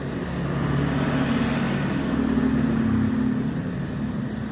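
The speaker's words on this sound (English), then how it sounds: "Got the crickets." Crickets chirp at dawn on a Pattaya street, a regular rapid pulse of high chirps repeating steadily over a low hum of distant traffic, fairly faint, no talk.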